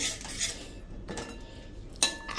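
A spoon clinks and scrapes against a glass while rose sharbat is mixed with lemon juice, giving a few short, close metallic bursts separated by quiet pauses.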